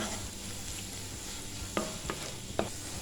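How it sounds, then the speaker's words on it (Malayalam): Garam masala and turmeric are stirred in a frying pan for a coconut-milk egg curry, a soft continuous sizzle broken by a few sharp spatula scrapes and clicks near the end. "ഒരു മിനിറ്റ് ഒന്ന് ഇളക്കി കൊടുക്കുക"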